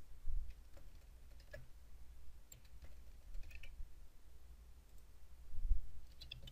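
Light typing on a computer keyboard while account details are entered in Windows 10, heard as sparse, faint key clicks scattered over a quiet background with a few slightly louder bursts.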